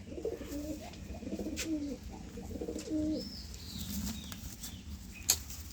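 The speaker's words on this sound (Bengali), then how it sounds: "আর এইটা হচ্ছে পায়রার পা পায়রাটা খুব ছটফট করছে" Pigeons coo in low, repeated throaty bursts, close by, with a brief flutter of wings near the end.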